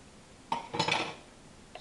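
Sweet almond oil being stirred into thickening soap batter in a container, heard as a short burst of utensil scraping and clinks against the vessel, with a faint tap near the end.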